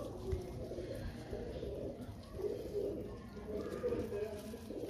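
Domestic pigeons coo softly in a rooftop loft, repeated low rounded calls at close range mixed with background noise, with someone speaking at points.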